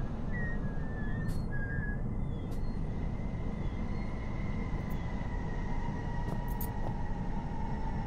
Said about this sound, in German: Also wo immer das Pfeifen herkam